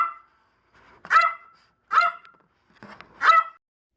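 A dog barks three times at a steady pace, sharp and fairly close, with brief silences between each bark.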